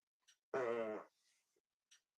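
A loud, drawn-out fart of about half a second, rumbling and buzzy, followed by faint soft trailing noise and a couple of tiny clicks in an otherwise quiet room.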